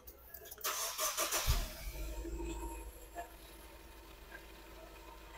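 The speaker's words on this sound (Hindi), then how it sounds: "गाड़ी का स्टार्टअप पहले चेक करते हैं।" A DFSK Glory 580 Pro seven-seater SUV with about 11,000 km on it cranks briefly, then its engine catches and settles into a steady idle, recorded close by without talk.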